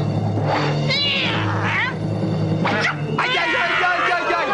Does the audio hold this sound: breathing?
no